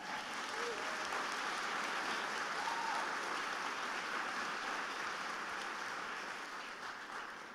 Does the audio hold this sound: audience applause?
yes